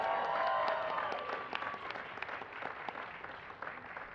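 Audience applause fills a White House reception celebrating Hispanic Heritage Month: a moderately close, steady patter of many hands clapping that gradually thins and softens over about four seconds.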